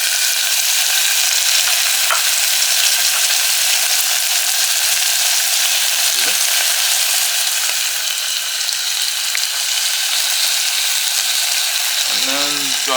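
Garlic, thyme and rosemary sizzle loudly in a frying pan, a dense continuous hiss that stays close and steady throughout, with faint stirring scrapes and a brief voice near the end.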